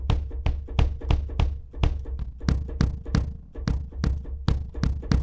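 A looped drum pattern played back from SampleTank in stretch mode, with sharp, rapid hits over a deep booming low end and a smeared, metallic formant coloring. It sounds close and steady, with no voices.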